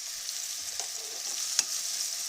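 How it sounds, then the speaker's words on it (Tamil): Tomato, green chilli and onion sautéing in a pan for wheat rava upma, a steady soft sizzle with a few light scrapes of a spoon, including one sharper clink near the end. "நல்லா வதங்கி வரணும் இந்த தக்காளி"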